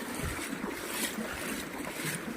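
Floodwater rushes during heavy rain, a continuous, fairly faint wash of flowing water with a broad hiss and low churning and no voices.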